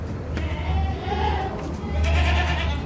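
A pregnant Doro goat, about four and a half months along, bleats in a sustained, wavering call that repeats twice over a steady low rumble, fairly close and moderately loud.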